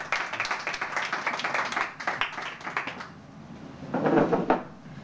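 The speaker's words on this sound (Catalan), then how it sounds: "Un aplaudi" An audience applauds at a magic show, with dense clapping for about three seconds that fades, then a short burst of rustling.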